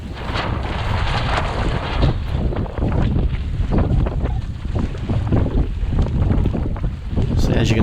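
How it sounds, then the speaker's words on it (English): Afternoon wind buffets the microphone while kayaking at sea off South West Rocks, a continuous loud rushing roar with gusty surges throughout and no clear voices. "in the afternoon, the wind tends to get up a bit, so it's good for sailing along"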